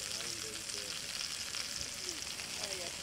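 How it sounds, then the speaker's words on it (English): Steady crackling sizzle of food frying in a hot pan on an Anevay Frontier wood stove outdoors, close and continuous, with faint voices in the background. "Oh, look at them sizzling away."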